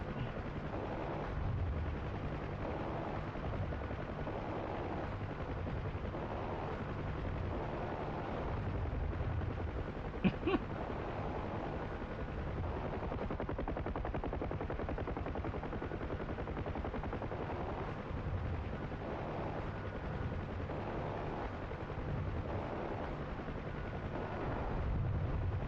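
Helicopter door gunner firing on four infantry transports in DCS World 2.5, a steady sustained rattle of automatic fire over a constant rotor drone, with one sharper burst midway.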